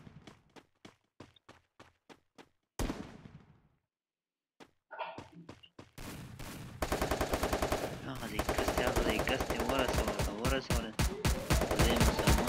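Shotgun gunfire in the Free Fire mobile battle game: a run of sharp single blasts, then a pause and a burst, followed by a long dense barrage of rapid overlapping shots, loud and close throughout.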